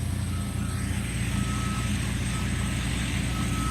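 A truck backs up at the SpaceX Starbase launch site in Boca Chica, Texas, with a continuous high reversing tone riding over heavy, loud low-end engine rumble and wind.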